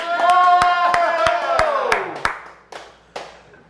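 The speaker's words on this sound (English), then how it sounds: "Doesn't it sound like a large crowd?" Scattered hand claps from a small group, sharp and close, thinning out toward the end with a few isolated claps over faint background voices.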